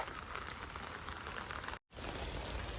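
Steady rain falls near farm fields in Korea, a dense, even hiss of drops that continues throughout apart from a brief gap of near silence partway through.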